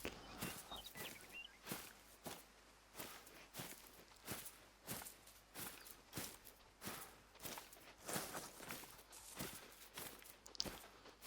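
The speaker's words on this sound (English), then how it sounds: "I can hear footsteps right up here above me." Animal footsteps in the hunting game Hunter Call of the Wild, a quiet, regular series of soft thuds stepping on and on at a steady pace, faint and with no talk.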